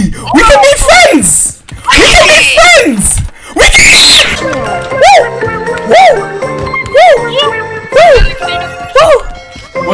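A monster in the Garry's Mod video game lets out loud, repeated shrieks that rise and fall in quick bursts, crowding the scene.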